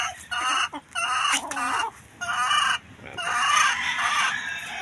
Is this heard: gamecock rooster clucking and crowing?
yes